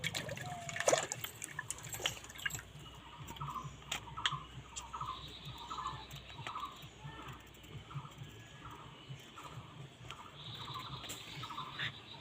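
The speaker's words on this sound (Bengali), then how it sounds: "এটা পরিষ্কার করে ধোয়া লাগবে।" A raw mango is washed under running tap water, giving a quiet, continuous splashing stream with drips. Faint voices or background sounds sit underneath it.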